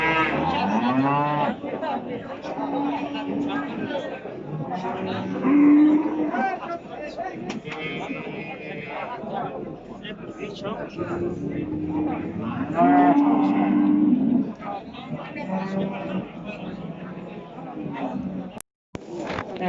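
Dairy cows lowing at a livestock market, several loud drawn-out moos repeating among crowd chatter, with people talking and bargaining nearby throughout.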